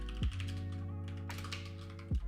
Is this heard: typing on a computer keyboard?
yes